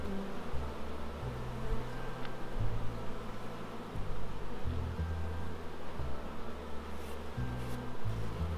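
A dense swarm of honeybees hums around an open, very strong beehive, a steady close drone that holds throughout without any talking.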